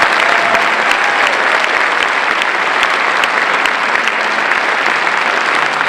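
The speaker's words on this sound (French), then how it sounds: "Vous pouvez l'applaudir encore une fois." An orchestra concert audience applauds the conductor with dense, loud, sustained clapping from a large crowd filling the hall, steady throughout with no voices.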